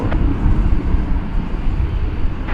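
An American Airlines jet rolls for takeoff at DFW airport, its engines giving a loud, steady rumbling roar that is deep and continuous, with no voices over it.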